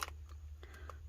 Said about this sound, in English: what I'm going to do is cut around it